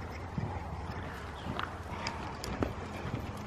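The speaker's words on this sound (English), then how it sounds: "You're going to keep cantering two more laps." A pony's hooves canter steadily around an arena, producing a rhythmic, fairly close clip-clop that continues on its own throughout.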